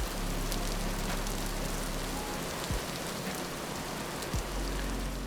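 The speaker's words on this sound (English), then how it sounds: "It's raining a lot." Steady rain in the video game Vintage Story patters continuously on a surface, with a couple of faint low thumps, no voices.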